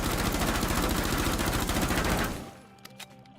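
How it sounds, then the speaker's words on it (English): MP5 submachine gun firing full auto in Rainbow Six Siege, one loud continuous rapid burst of shots lasting a couple of seconds, then a few faint clicks and mechanical sounds as it stops. "This is how the recoil looks without controlling it on the MP5."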